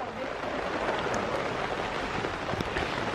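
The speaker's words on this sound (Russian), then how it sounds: "Дождь идет." Steady rain hisses softly on a surface nearby, a continuous wash of patter with no voices.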